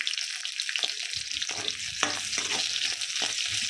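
Onion and ginger, with chilli and garlic, fry in a pan for paneer gravy: a loud, continuous close sizzle broken by repeated scraping stirs, with no voices.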